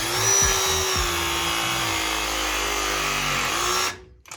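Viega MegaPress press tool crimping a 2 by 1 inch fitting onto steam pipe, a loud continuous motor whine that holds for nearly four seconds, then cuts off.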